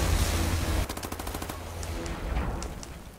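Enemy gunfire in a Wolfenstein video game: a short burst of rapid automatic shots, then a few scattered, fainter shots against a rumbling game background.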